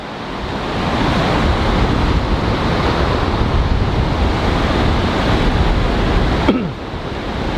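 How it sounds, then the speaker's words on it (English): Surf washing onto a small beach, a continuous loud rush of breaking waves mixed with wind buffeting the microphone, easing slightly in the last second. "there's a little beach right here"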